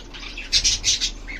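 Pet birds kept for breeding give a quick series of about four short, harsh squawks, close and fairly loud against a quiet background.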